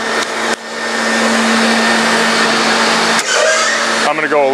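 A Model 204 cutting machine runs loud and steady with a constant electric drone while slicing slowly through thick mineral foam, the whine shifting near the end.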